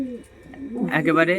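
A Pakistani high-flying pigeon coos in a short, close, rolling burst, with someone speaking briefly just before it.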